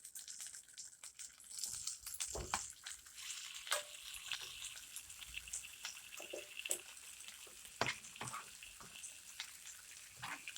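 Chicken pieces frying in a cube of butter in a pan, a steady soft sizzle with crackling and spitting bursts, close and moderately loud, with occasional clinks and stirring sounds and no talking.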